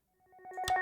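A phone ringtone chimes, with tones rising in loudness over a brief moment, close and clear with no talking.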